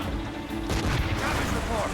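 Ship cannons fire in Assassin's Creed Rogue naval combat, heavy overlapping booms rolling into a continuous thundering barrage amid battle noise.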